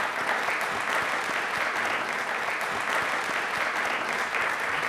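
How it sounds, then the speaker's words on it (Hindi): A studio audience at a televised quiz show breaks into loud, sustained applause, a dense continuous roar of clapping that stays steady from start to finish. "तालियां एक बार जोरदार होनी चाहिए"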